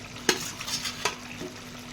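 Pieces of katla fish go into boiling gravy for a Bengali kalia, making a few soft splashes and clatters over a faint, low bubbling simmer, quiet and close.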